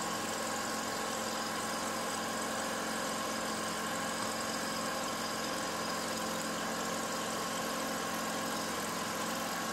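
A riding lawn mower's engine runs steadily with its blades engaged, a continuous mid-pitched drone with a faint vibrating hum, loud and unbroken throughout.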